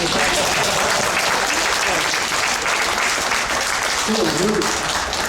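Dense audience applause fills the clip, loud and continuous, with a voice briefly audible beneath the clapping near the end.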